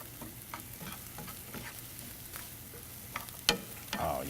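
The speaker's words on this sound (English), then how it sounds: "let's give this a good stir" Food with freshly added cilantro sizzles softly in a hot pan while being stirred, with scraping and clinking from the utensil, a sharp knock near the end, and a brief hiss as the frying flares up.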